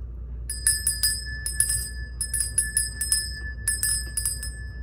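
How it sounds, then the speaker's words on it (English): A small hand bell rings in quick bursts of bright, rapid metallic dings, in clustered groups with short pauses, close and clear over a low background hum. "Let me ring the bell for y'all."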